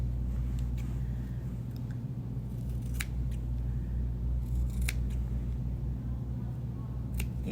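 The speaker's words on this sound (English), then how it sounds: "I'm cutting in here, and I'm going to chop these outside corners off so I have a nice turn." Scissors snip fabric corners while making a folding wallet, a series of short crisp cuts at close range over a steady low background hum.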